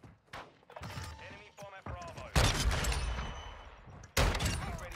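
Slug-round Lockwood shotgun fired in a video game, heavy booming blasts that land several times across the stretch, one big report midway followed by a long rumbling tail and another sharp blast near the end, with someone talking between shots.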